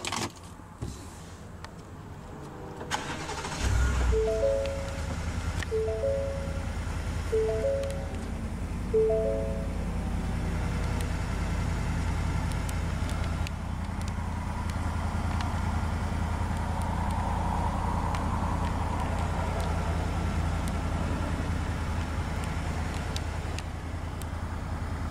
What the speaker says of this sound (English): let's go ahead and start up that 5-liter Coyote V8